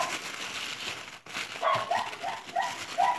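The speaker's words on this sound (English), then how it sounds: "My daughter's just pulled up and her dog is going crazy," An excited dog goes wild as a car pulls up, letting out a quick series of sharp, high yips and barks at moderate distance over a steady indoor background hum.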